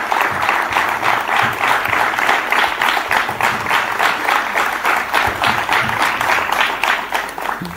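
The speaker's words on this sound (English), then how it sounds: "I request everyone to once again welcome him with a huge round of applause." A large audience at a South Asia Learning Summit breaks into sustained applause, dense overlapping clapping filling the hall evenly from start to finish.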